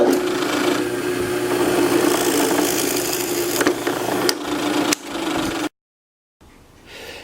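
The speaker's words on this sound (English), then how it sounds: "Now I'm just going to drill a hole in the center of the circle." A drill bores a hole in the centre of a marked wooden circle in a woodworking shop, giving a steady whirring grind that cuts off abruptly, followed by a brief silence and quieter handling noise.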